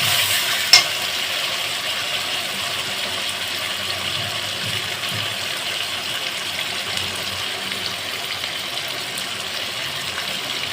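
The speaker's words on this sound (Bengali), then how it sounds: "লঙ্কা বাটাটা দিয়ে আমি এইভাবে আবারও কষাতে থাকবো" Chilli paste is stir-fried with mutton in a pan, a soft, steady frying hiss with a single sharp clink near the start and faint stirring, heard close with no talking.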